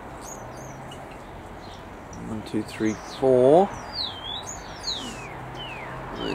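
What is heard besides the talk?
sparrows chirping in an aviary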